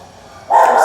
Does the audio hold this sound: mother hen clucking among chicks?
no